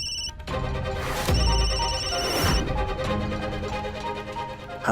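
A telephone rings with a call from a hospital, the electronic ringtone repeating loudly and alone across the whole stretch, with a pause and some dramatic accent sounds mixed in.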